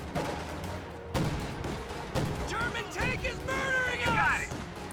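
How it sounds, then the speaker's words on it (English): Mortar fire in a tank battle video game, with several dull booms and crashes under the steady voice of a commentator, followed by whistling, sweeping effects that rise toward the end. "Late mortar coming in."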